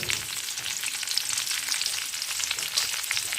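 Whole spices (black and green cardamom, cinnamon and cloves) sizzle in hot ghee for plain polao, with a dense, even, close-up frying hiss that runs unbroken and loud, with no voices.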